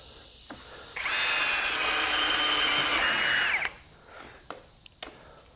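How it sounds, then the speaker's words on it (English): A compact Ryobi 18V drill driver bores a 1/4-inch hole through 1/4-inch plate steel, a loud high whining drill run lasting a few seconds before it stops, followed by faint clatter and handling noises. "drilling, you know, 1/4 inch holes in 1/4 inch plate steel"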